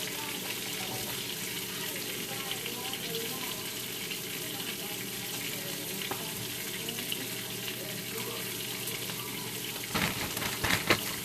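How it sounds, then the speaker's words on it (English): Frozen fries added to a hot pan beside cooking salmon give a steady, close sizzle with small crackles, swelling into a louder bubbling burst toward the end. "So go ahead and add your fries carefully."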